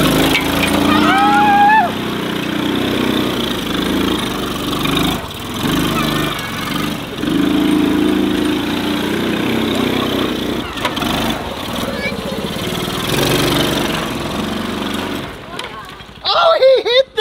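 A small motor on a kids' tractor drones and revs unevenly with rattling and splashing bursts as it drives through mud, close by, while people talk and shout over it.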